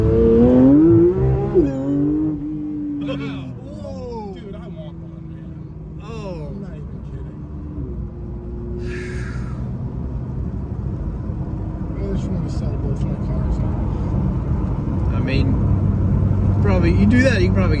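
A Porsche 992 GT3 engine revs hard toward 9,000 RPM, heard from inside the car as a rising, sweeping wail that fades into steady cabin drone, with excited voices talking over it throughout.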